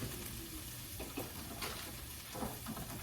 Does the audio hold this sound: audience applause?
no